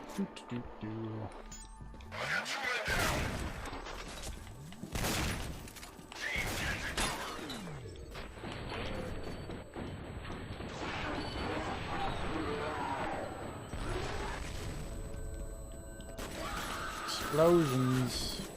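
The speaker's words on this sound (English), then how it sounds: "Explosions." Bursts of explosive, crashing sound effects from the video game F.E.A.R. erupt repeatedly, mixed with mechanical clatter and occasional talking over the top.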